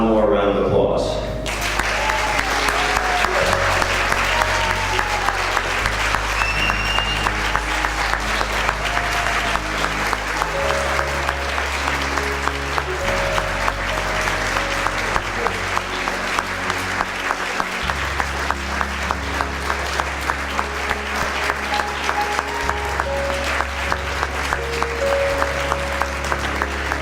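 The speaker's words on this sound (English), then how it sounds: "recognizing, as fellow family members, all of our retiring colleagues with one more round of applause" Sustained audience applause for retiring colleagues at a 2014 retirement tribute, a thick, even roar of clapping that runs for nearly half a minute over steady background music with low held notes.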